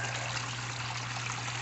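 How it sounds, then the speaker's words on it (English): Water runs steadily through a newly built gold-panning sluice on Indiana Creek, a continuous even trickling rush with a low constant hum beneath it and no voices. "Finally got the sluice going"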